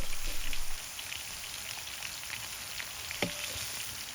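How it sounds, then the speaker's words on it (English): Halved mushrooms frying in corn oil in a skillet, a steady soft crackle and hiss like light rain, slightly louder at the start, with a single sharp clink partway through. "We send our mushrooms to fry in corn oil, cutting them in half directly in the skillet."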